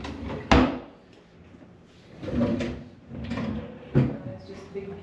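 Big drawers in a spacious Rio Las Vegas hotel suite slide open and thud shut several times, with a sharp knock near the start and another a few seconds later, and soft rumbling slides in between.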